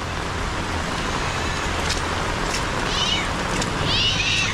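A pet cat gives two short meows partway through, heard over a steady background wash of traffic and rain noise, with no talking.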